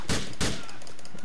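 Two loud, close gunshot bursts ring out in the video game Grand Theft Auto IV, about a third of a second apart, each followed by a fading tail.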